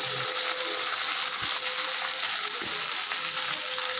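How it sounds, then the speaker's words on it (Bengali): Steady, hissing sizzle of chopped onion frying in a hot pan, continuous throughout, with a couple of faint knocks from stirring. "পেঁয়াজটা ভাজা ভাজা হবে তারপর দেব টমেটো"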